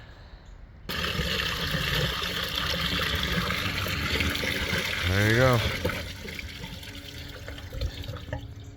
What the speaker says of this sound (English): You can see it just spewing water from the sump pump.